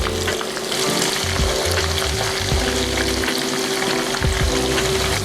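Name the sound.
frying chicken and tempeh in oil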